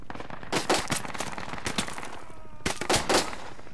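Gunfire in the Project Reality video game during an Afghan insurgency round, loud bursts of automatic fire in several clusters, sharp cracks close by with echoing reports between them.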